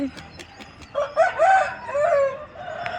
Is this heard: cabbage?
no